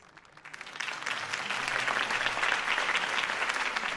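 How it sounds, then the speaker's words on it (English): A crowd bursts into sustained applause after a campaign speech for Harvey Dent, the clapping swelling quickly and holding at a steady, dense roar throughout. "If only Mr. Wayne, my campaign's largest backer, could have heard that applause"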